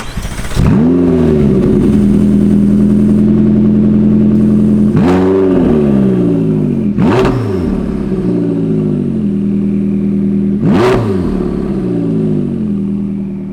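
A McLaren GT sports car engine fires up and settles into a loud, steady idle, then revs sharply three times in quick blips, close and dominant with no talking.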